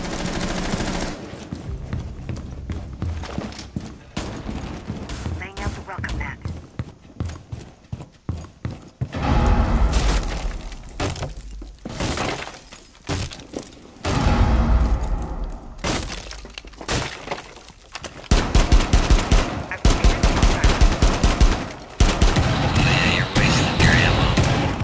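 Loud gunfire and breaching in Rainbow Six Siege during a House map hostage team deathmatch, with dense bursts of shots, impacts and crashing debris that go on steadily, mixed with game noise.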